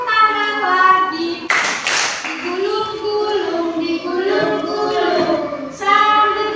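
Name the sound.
children clapping hands to a song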